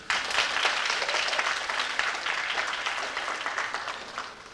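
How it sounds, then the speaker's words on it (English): A banquet audience claps for a cross-country team, a dense, loud wash of applause that holds steady for several seconds and then thins slightly toward the end. "I think that deserves a round of applause"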